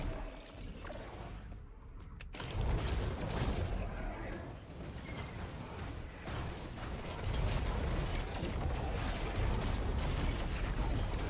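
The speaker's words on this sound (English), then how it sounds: "Okay, guillotine printer." A guillotine printer in the video game Risk of Rain 2 runs its mechanism, giving a loud, continuous grinding, creaking clatter for about eleven seconds after a brief quieter lead-in, with no talk over it.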